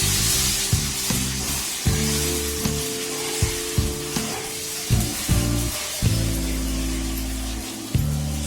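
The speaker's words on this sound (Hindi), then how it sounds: "अब हम इसमें गरम घी में थोड़ा थोड़ा डालेंगे और इसे चलाते रहेंगे" Flour batter poured little by little into hot ghee and stirred, giving a steady loud sizzle and frying hiss with repeated scraping stirs throughout, no talking.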